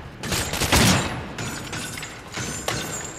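Dense, roaring gunfire from the PC game Cryostasis, a continuous loud burst of shots and booms with reverberant noise swelling early and trailing into a sustained rumble with a couple of later bursts.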